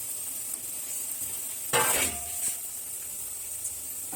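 Chicken momos drop into hot oil in a wok with a sudden sharp sizzling burst, then a fainter crackle and a light clink of utensils against the pan.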